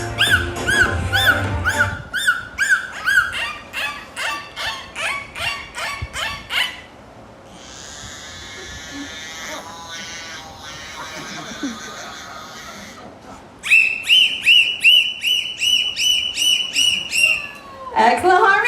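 Dolphins at a Gulfarium show on the Florida Gulf Coast whistle and squeal through their blowholes in loud, rapid repeated bursts, with a steadier, quieter stretch of high whistling in the middle before the loud bursts return.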